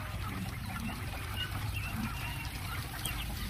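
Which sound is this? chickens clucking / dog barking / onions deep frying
chickens clucking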